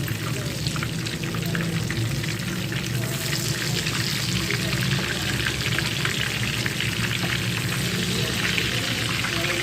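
Fish sizzles steadily in a pan over a medium flame, fried without besan, with a dense, continuous crackle and hiss that holds level and close for the whole stretch.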